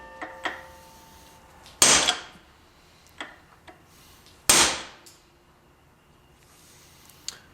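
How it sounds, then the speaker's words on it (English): A hammer strikes a chisel wedged in the groove of a Honda Accord wheel bearing race, with two loud sharp metallic blows and several lighter taps and ticks spaced out between them. "take a chisel and stick it in the groove and hit it with a hammer until the race cracks"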